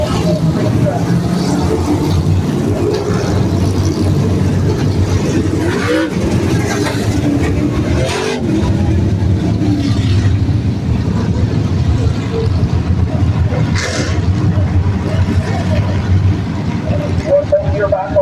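Open modified race cars roar at Midvale Speedway as a feature race gets under way, with a loud continuous engine drone throughout and an announcer talking over it.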